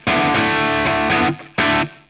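A rock song, with loud distorted electric guitar chords struck in a chugging rhythm, heavy and close, with short gaps between the stabs.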